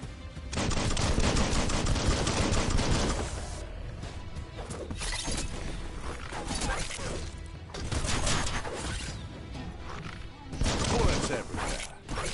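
Heavy gunfire in the video game Biomutant: loud, dense bursts of rapid shots and crashing impacts come in waves, with brief lulls between barrages and a voice mixed in.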